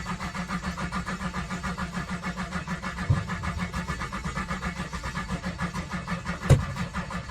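A twin turbo V8 in a Ford Focus project car cranks over steadily with a rhythmic churning pulse, close and continuous, with a sharp clunk near the end and no voices.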